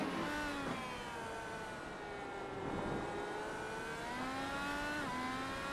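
IndyCar race car at the Indianapolis road course in the iRacing sim, engine note rising and falling steadily through gear changes, a continuous high-pitched whine with a brief dip and recovery.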